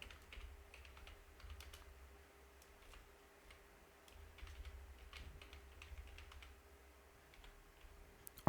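Someone types a venue name into an Excel spreadsheet on a computer keyboard, with soft, steady key clicks in short runs over a low hum, close and fairly quiet, with no talking.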